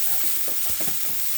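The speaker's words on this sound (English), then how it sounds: "I'm just going to saute the onion and the garlic" Onion and garlic sauté in a hot pan on medium heat for a vegetable cauliflower lasagna, a steady close sizzle with a few soft stirring scrapes, brief and without talk.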